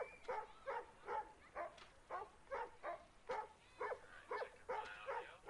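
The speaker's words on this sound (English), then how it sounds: "you can constantly hear that dog barking" A distant dog barks repeatedly in a steady, regular rhythm, about a dozen muffled barks heard faintly from some distance.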